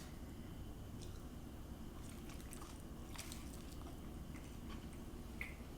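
A crispy-bottomed pizza slice at a pizzeria gets bitten and chewed, with soft, close crunching and mouth sounds running steadily at low level.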